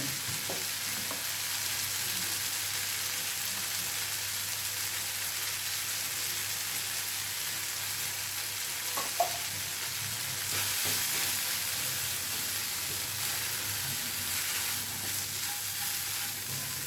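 Ground coriander, chilli, cumin, garlic and black pepper fry in a pan for rasam, giving a steady soft sizzle with occasional scrape of stirring, fairly quiet and continuous with no talking.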